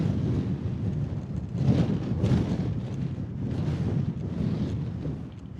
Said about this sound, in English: But wow, that wind is definitely cold.